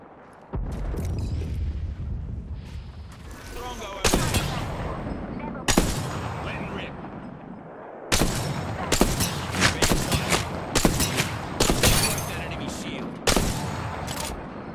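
In Apex Legends, a knuckle cluster fires alongside bursts of automatic gunfire, with loud cracks and volleys repeating through the clip after a quieter opening.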